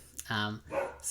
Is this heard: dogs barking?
yes